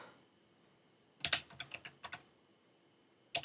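Typing on a computer keyboard: a short burst of about eight quick, close, crisp keystrokes, a pause, then a couple more taps, with no talking.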